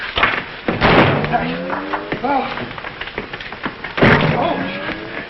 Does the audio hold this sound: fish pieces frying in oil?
no